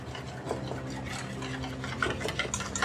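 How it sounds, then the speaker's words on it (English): Buttermilk salad dressing with fresh lemon juice, sugar, salt and pepper being whisked in a bowl, a steady run of quick scraping, tapping strokes close by with no talk. "And I'm gonna whisk those up."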